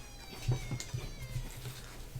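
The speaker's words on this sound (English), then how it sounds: "I have to check on my cat. She's making odd noises." A pet cat makes a string of short, odd, low murmuring calls in a quiet room over a faint electronic hum, several brief sounds spaced about a quarter second apart, with no talk.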